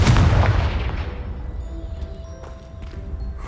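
A Confringo spell in the Hogwarts Legacy video game lands with a loud, close blast that booms at once and then fades away over a few seconds.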